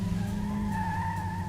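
Tires skid and squeal under a steady engine drone in the Dreamcast racing game Metropolis Street Racer, with a rear-wheel-drive car sliding; the sustained tonal screech runs continuously and loud throughout, with no talking.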